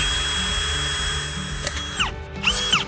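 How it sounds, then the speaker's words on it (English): A power drill whines at high speed, dips in pitch as it bites into a hard coconut shell bowl, then revs again in short bursts. "Drill a few holes there, just for some drainage."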